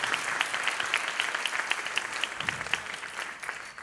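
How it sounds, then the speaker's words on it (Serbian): An audience applauds at a francophone song contest in Niš after a performance, a steady wash of many hands clapping at moderate distance, fading slightly at the end. "Aplauz, slobodno."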